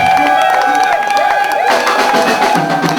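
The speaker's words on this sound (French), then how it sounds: "On acclame très fort." Guests at a Congolese wedding celebration cheer and clap loudly in a lively crowd, with whoops, ululating cries and bright voices layered over steady applause and music, rising even louder partway through.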